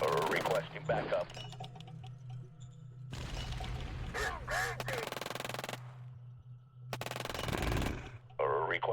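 Rapid bursts of gunfire in a strategy video game rattle loudly in several separate stretches over a steady low hum, with brief voices in between.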